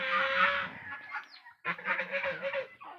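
Domestic farm geese honk in short repeated bursts with clucking fowl mixed in, fairly close and moderately loud, no talking.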